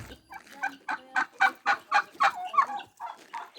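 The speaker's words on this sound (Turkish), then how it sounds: "Hindimiz." Male turkeys gobble and fight in rapid, rhythmic bursts, a loud series of throaty warbling calls close by, with no talking.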